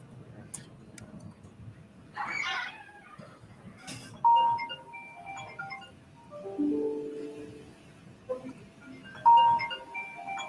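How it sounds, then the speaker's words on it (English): Phone ringtone from an incoming call plays several short electronic chime phrases, moderately loud, over quiet room background with faint movement and no speech. "Somebody's calling her."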